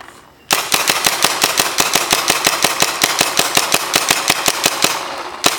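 A Valken SW1 paintball marker with an Apex-tipped MP5 barrel fires a rapid, steady string of about thirty sharp pops close by, evenly spaced and loud, with no talking.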